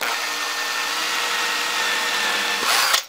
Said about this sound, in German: bohre ich nochmal neue Löcher,